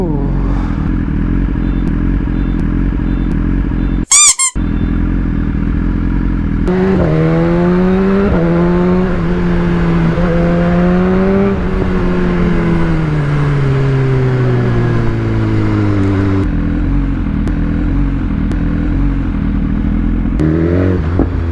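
A BMW S1000 RR motorcycle engine runs loud and close for a long stretch, with a sharp blip early on and several rising and falling rev sweeps, and no talk over it.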